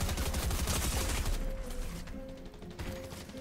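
Video game gunfire, a dense fusillade of rapid automatic shots that fills the first second and a half, then fades into quieter ambient game sound with a steady tone.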